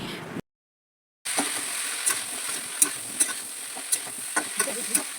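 Drumsticks mixed with turmeric, chilli, coriander and cumin powders and salt are stirred in a pan, producing a steady frying hiss with light scraping strokes. Sharper spatula clicks come at intervals after a short dropout near the start.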